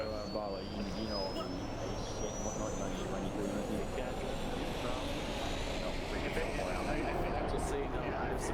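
In the Arma 3 video game, an aircraft engine roars in a constant, loud drone, with a slowly rising whine threaded through it, filling the full span with no break.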